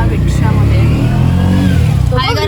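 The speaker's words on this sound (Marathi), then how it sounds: "आता मी चाललेलो आहोत आमच्या दीपक दादाच्या रिक्षामध्ये" An auto rickshaw engine drones loud and close during a ride to a village, holding a steady, continuous rumble with muffled voices underneath.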